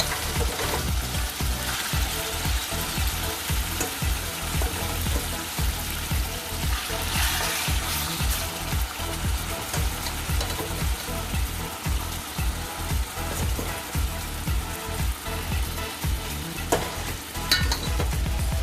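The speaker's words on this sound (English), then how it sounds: "So there you go with a pot with the oil, and I use avocado oil, so I'm going to add my kidney in the pot." Kidney frying in avocado oil in a pot for a Jamaican stew makes a loud, continuous sizzle with rhythmic stirring scrapes running under it the whole time.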